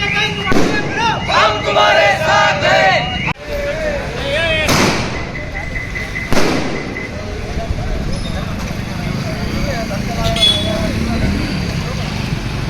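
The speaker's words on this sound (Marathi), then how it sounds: "दोन्ही गावातील ओबीसी बांधवांनी डीजेच्या तालावर डान्स करत गुलाल उधळून फटाके फोडत पंकजा मुंडेंचा हा विजय साजरा केलाय" Several sharp firecracker bangs burst amid a noisy outdoor crowd celebrating an election win with DJ music and dancing, people talking and cheering around them.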